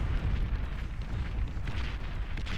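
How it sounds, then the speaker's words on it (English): Artillery explodes in the Beyond All Reason strategy game, a dense, continuous rumble of booms and blasts layered together as both sides trade fire, loud and unbroken with no talking. "Artillery battle on both sides, guys."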